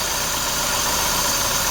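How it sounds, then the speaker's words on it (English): The engine of an Austin Ambassador Vanden Plas runs steadily close by, a loud, dense mechanical hum with a faint tick, held at an even speed throughout the short stretch. "just to give you an idea of the difference between like tick over and 2000 RPM"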